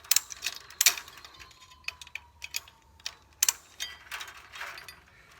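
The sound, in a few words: tightening an H-brace fence wire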